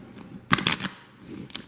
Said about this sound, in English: We're gonna cut the deck. We're gonna shuffle.